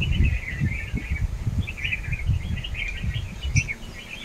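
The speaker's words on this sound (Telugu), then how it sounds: "మన తోటలో ఆ టేకు చెట్టు మీద చూడండి ఎన్ని రకాల పిట్టలు ఉన్నాయో" Many kinds of birds chirp and call from a teak tree in a farm garden in the morning, a steady, busy chorus of overlapping tweets at moderate distance against low rustling background noise.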